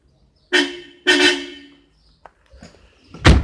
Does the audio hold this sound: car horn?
yes